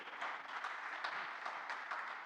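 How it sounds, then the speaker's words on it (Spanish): A church congregation applauds during a sermon, producing soft, distant, steady clapping from many people with a few sharper individual claps. "Denle un aplauso al Señor."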